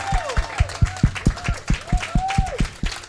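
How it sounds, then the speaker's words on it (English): Applause from an audience at a documentary screening, with sparse, uneven claps rising and falling over a few seconds. Wavering tones, like a voice or whistle, run over the top. "I'd love to just hear another round of applause for the hard work everyone put into the program"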